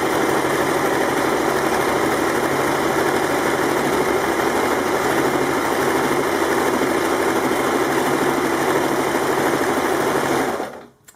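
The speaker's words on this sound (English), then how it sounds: "you can then go ahead and just sew the stitches." An overlock sewing machine runs continuously at high speed with a steady buzzing whir, close and loud, then stops abruptly near the end.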